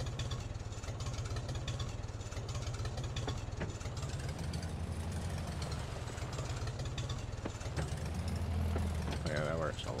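A tractor's engine in Farming Simulator 22 hums steadily at a low, mid-pitched idle while pulling an older style cutter, with faint mechanical clatter throughout and no voice over it.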